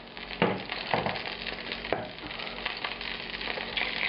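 Lamb fat sizzling and spitting in a hot pan, a steady close crackle with a few sharper pops, and no voices.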